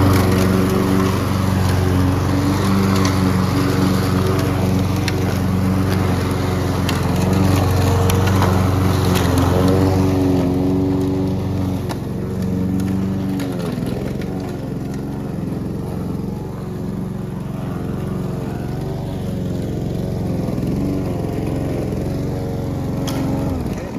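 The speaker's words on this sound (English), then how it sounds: "It's a great push mower investment in between zero turn and like" Honda HRX217VKA push lawn mower with a GC200 engine cutting grass, its steady loud engine drone and blade whir running continuously up close, easing slightly halfway through as the load shifts, with no talking.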